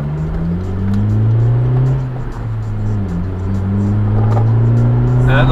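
A Mugen Honda CR-Z revs hard, its loud intake howl rising and dipping in steady pulls as the car accelerates along backroads, close and continuous with no talking.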